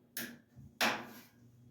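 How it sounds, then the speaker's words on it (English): A Kenmore Whirlpool washing machine door shuts with two close, sharp clunks under a quiet room background. "And then you close the door."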